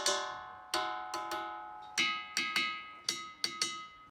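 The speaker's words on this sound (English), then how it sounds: "These are called the ringing rocks of Montana, and they're strange because they really shouldn't sound like this." The ringing rocks of Montana are struck about eleven times in an uneven rhythm, each hit giving a clear, bell-like metallic ring that decays slowly, heard close and alone.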